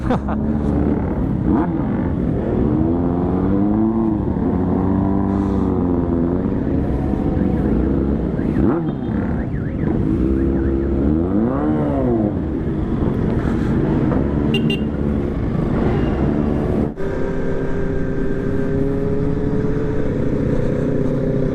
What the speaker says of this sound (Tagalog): Ang iingay ng motor guys